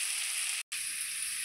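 Onion and potato frying in a pan, a steady bright hiss of sizzling oil broken by a brief gap of near silence partway through.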